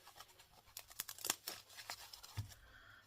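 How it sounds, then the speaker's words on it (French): Paper being cut with tearing scissors, a run of short crisp snips and crinkles close by, irregular and fairly quiet, with no voices. "Pas très facile à couper avec mes ciseaux déchireurs"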